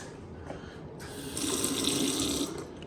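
A hotel room kitchen sink tap runs steadily, the water hiss swelling louder midway as the flow increases, then easing slightly near the end.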